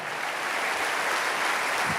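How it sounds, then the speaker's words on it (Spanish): A church congregation applauding, a continuous broad roar of many hands clapping that holds steady throughout without pauses. "Ese aplauso tiene que ser gigantesco"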